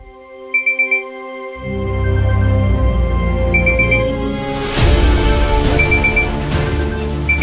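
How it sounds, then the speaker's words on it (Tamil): A few quick electronic beeps, then a loud continuous ringing alarm tone with a repeating melodic pattern that carries on steadily. "அலாரம் அடிக்குது"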